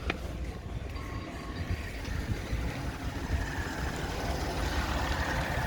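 A 2019 Peugeot 208 hatchback damaged in a front-on collision keeps running, its engine giving a steady low rumbling idle, close and continuous throughout.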